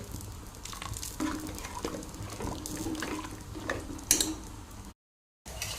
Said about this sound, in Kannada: ಇವಾಗ ಕರಗಿಸಿದ ಬೆಲ್ಲದ ನೀರನ್ನು ಹಾಕಿದೆ